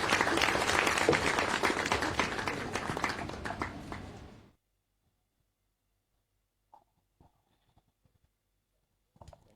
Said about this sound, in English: Please, a round of applause for Mr. Deji.